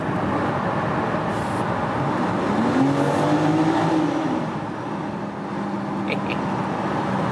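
A BMW X4 M Competition SUV drives through a tunnel, its engine a loud, continuous roar with a rising and falling growl that fills the enclosed space, heard alone without talk.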